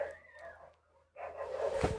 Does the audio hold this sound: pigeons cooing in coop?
no